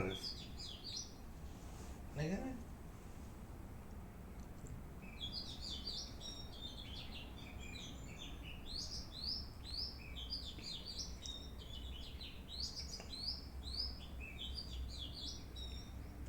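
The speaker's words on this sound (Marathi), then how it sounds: "पाहुणा पक्षी आलेलाच आहे वसंत ऋतूत असतो तो नंतर मग निघून जातो त्याच्या देशात" A migratory bird visiting in spring calls at sunrise with repeated high chirping phrases at moderate distance, set over a low background hum, while quiet speech runs briefly in places.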